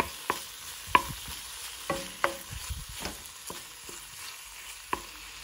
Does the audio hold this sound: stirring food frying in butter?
yes